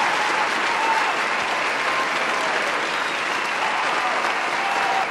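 A large audience claps steadily and loudly for the whole stretch, a dense continuous wash of applause with no pauses.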